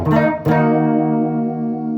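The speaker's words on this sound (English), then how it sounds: "so let's hear the bridge on its own" An Ibanez Artstar AS80 electric guitar on the bridge pickup, with a bright, slightly driven tone, strums twice, the second chord ringing out and fading slowly.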